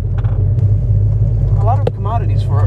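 The engine of a 1972 De Tomaso Pantera rumbles steadily as the car rolls off the clutch and pulls away, a deep, close, continuous drone with someone talking over it.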